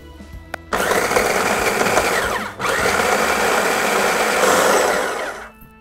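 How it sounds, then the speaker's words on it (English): A food processor pulses a graham cracker crust mixture for cheesecake bars, a loud steady motor whir that cuts out briefly near the middle and then runs on again, with no talk. "we're just going to pulse this a few times until it starts to look crumbly and everything is well mixed together"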